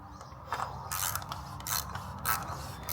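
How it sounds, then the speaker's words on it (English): Ratchet clicking in quick repeated bursts while tightening the oil filter on a 2019 Dodge Journey GT, close and fairly loud over a low steady background hum, no talking. "we'll finish it up with our ratchet"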